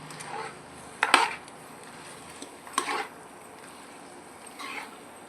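Ground masala stirred into chicken curry in a pot: a few short scraping clatters of a spoon against the pot, spaced apart and fairly quiet, with no voices.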